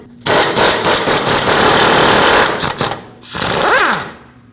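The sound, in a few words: impact wrench removing mounting nut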